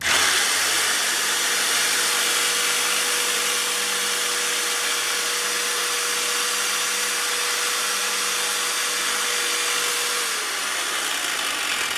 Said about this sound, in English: using that pilot hole you get the jigsaw in there and just cut in a circle